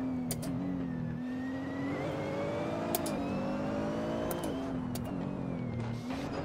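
A GRT GT3 race car engine revs hard in first gear on the Tail of the Dragon mountain road at Deals Gap, its steady droning howl rising and dipping with throttle, with occasional sharp clicks.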